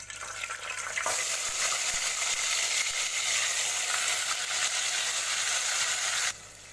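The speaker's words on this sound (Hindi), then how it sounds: "उसमें हम ये मटन डाल देंगे" Mutton hits hot oil with bay leaf in a pot for Hyderabadi biryani, bursting into a loud, steady hiss of frying that holds strong for several seconds before dropping away abruptly near the end.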